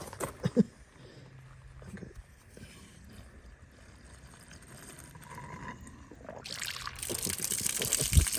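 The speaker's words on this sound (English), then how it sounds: "we're gonna flow water through here and see what comes out over here." Water flowing through a part from a Detroit Diesel 8V92TA engine in an overheated Wanderlodge, a faint trickle that grows into a louder rushing splash near the end.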